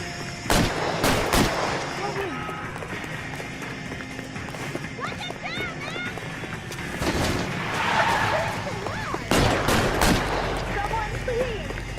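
Gunfire in L.A. Noire during a chase, with several sharp pistol shots in small clusters, some near and some farther off, over running footsteps and street noise while someone talks.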